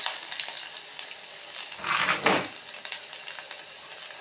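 Large onions fry in a pan for veg dosa, giving a continuous close crackling sizzle that swells briefly in the middle as they are stirred, with no talk.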